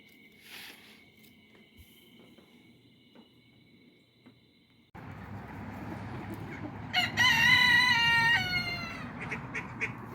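Backyard roosters crow loudly in a long, wavering cock-a-doodle-doo over a busy bed of clucking and fowl chatter, following a quieter stretch of faint, scattered bird calls.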